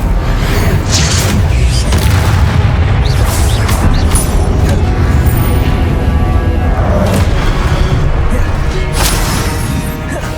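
Incendium, a fire spell cast in the video game Hogwarts Legacy, roars in as a loud, dense burst of rushing flame and crashing impact noise that fills the whole stretch, with a spoken voice mixed in.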